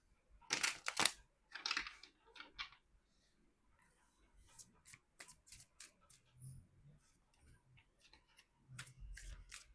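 Tarot cards being shuffled by hand, giving soft papery riffles and slaps in short bursts: a few louder, crisp flurries early, then quieter scattered rustles and taps close to the mic.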